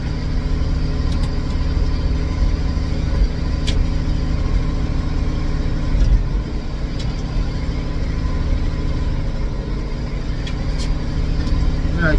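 A 1963 Ford F600 truck engine runs steadily after start-up, a continuous low rumbling idle close by with a few faint clicks and knocks over it.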